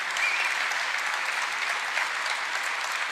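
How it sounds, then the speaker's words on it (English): Audience applause at a political gathering after a state senator is introduced, a warm, even round of clapping from a large crowd lasting a few seconds, with no voices on top. "let's give her a warm round of applause as well."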